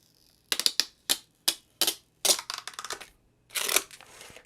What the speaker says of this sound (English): This is the plastic puller, the puller thing, so it's easier to peel off.